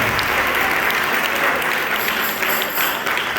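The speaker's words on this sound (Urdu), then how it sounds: "زوردار تالیاں ہو جائیں، زوردار تالیاں۔" Loud, sustained applause from a church congregation, dense clapping filling the whole stretch without pause and no talk over it.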